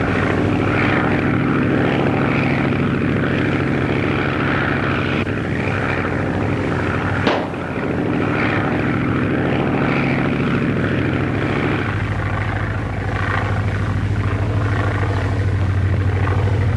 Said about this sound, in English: I'm going down for a landing just the same.